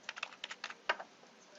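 Fast clicking keystrokes on a computer keyboard come in a quick, uneven burst of about a dozen taps, close and quiet, with one sharper key press near the middle.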